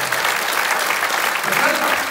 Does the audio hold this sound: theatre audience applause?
yes